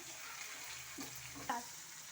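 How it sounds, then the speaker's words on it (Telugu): Tomato cooks in a pan of crab curry with a soft, steady sizzle. Two or three gentle scrapes from stirring break in, all at low volume. "ఇదిగోండి టమాటా మగ్గుతుంది ఇలా తిప్పుతూ ఉండాలి"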